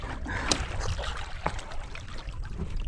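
Choppy water sloshing and splashing against a small boat, with irregular slaps and a steady wash of wind-driven waves close by.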